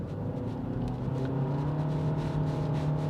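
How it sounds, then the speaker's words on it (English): A 2024 MG3 Hybrid driving up a hill, its engine holding a steady, droning hum with a faint rising whine and road rumble, no voices over it. "acceleration up a hill like this, we'll put our foot down and"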